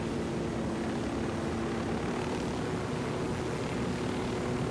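A helicopter flies in the video game Ghost Recon Wildlands, giving a steady, dense rotor and engine roar that stays constant and fairly loud with no speech over it.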